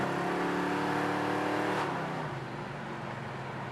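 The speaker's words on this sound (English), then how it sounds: "The car has good acceleration." A 1969 Dodge Dart Swinger muscle car with its numbers-matching 340 V8 pulls hard under acceleration, a loud steady engine roar that eases off and fades after a couple of seconds.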